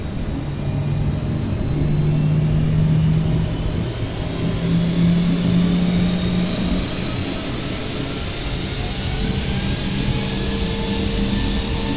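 A jet airliner engine in Microsoft Flight Simulator roars steadily, a loud, broad, continuous rush with a low droning tone and faint high whine, holding constant throughout with no voices.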